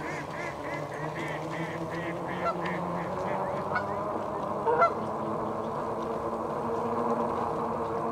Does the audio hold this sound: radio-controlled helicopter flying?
no